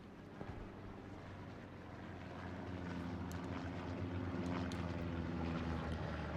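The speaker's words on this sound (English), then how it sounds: "Recon planes going over." Reconnaissance planes drone overhead in the World War II shooter Hell Let Loose on the Foy map, a steady low propeller hum that swells slightly louder as it passes, with faint distant battlefield sounds and no talk.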